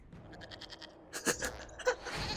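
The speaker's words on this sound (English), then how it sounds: "we discovered this man attacking the building with a goat" A goat bleats in the Dragon Age: Inquisition video game, a quavering pulsed bleat followed by sharper, louder cries, close and clear with no talk.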